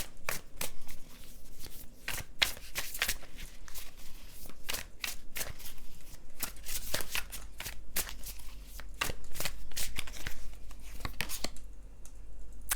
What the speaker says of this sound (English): let me just grab one more card here to clarify that